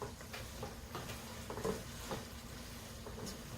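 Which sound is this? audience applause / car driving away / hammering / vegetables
vegetables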